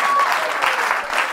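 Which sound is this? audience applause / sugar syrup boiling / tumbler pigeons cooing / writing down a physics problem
audience applause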